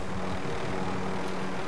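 Helicopter in a first-person shooter video game, a steady rotor and engine drone with low pulsing throb that runs continuously and loud through the whole moment, with no talk over it.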